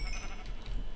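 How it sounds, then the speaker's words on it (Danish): A sheep in the Minecraft video game bleats once, a short, wavering cry over a low hum of game background sound, with no speech. "Får."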